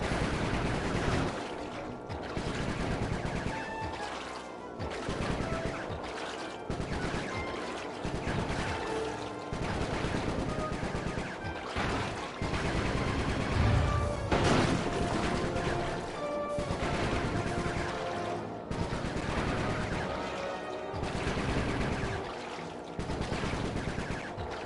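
Bentley firing during a Sly Cooper 3 game sequence, rhythmic bursts of shots repeating steadily over a long stretch, layered with game music and effects, fairly loud throughout and with no talking.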